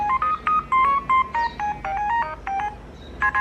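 Flip phone text message alert, a rapid run of bright electronic beeps in short bursts, several sequences repeating across the clip, loud and close with no talking.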